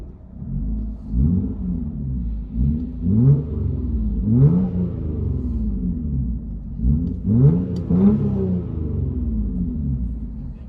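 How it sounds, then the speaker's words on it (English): A 2002 Toyota Camry V6 with straight-pipe exhaust revs repeatedly in loud, rumbling bursts with a raspy note, heard close up from inside, each rev rising and falling. "Toyota Camry, baby. Straight pipe."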